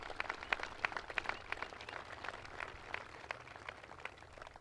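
Scattered applause from an outdoor audience at a Memorial Day service at a North Dakota veterans cemetery, faint and distant, with steady light clapping throughout.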